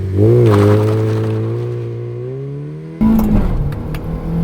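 A 1.8-litre Mazda MX-5 NB with an aftermarket exhaust accelerating hard, the engine note climbing loudly before a quick gear change and a fresh burst of revs, heard up close from inside the car.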